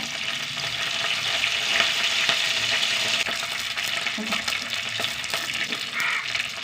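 Mustard seeds, dried red chilies and curry leaves sizzle in hot oil, a loud, continuous crackling hiss with popping spatters, close and steady with no talking.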